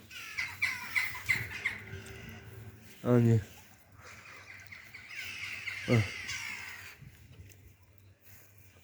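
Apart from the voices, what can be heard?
birds squawking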